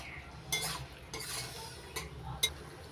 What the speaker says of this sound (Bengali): বাটিতে তৈরি করে রাখা সসটা দেওয়ার পর হাই ফ্লেমে মিশিয়ে নিচ্ছি।